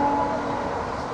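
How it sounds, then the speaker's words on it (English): A steady, broad rumble of a train on the tracks, loud and continuous, with a faint tonal whine riding over the noise. "You can certainly hear a train coming,"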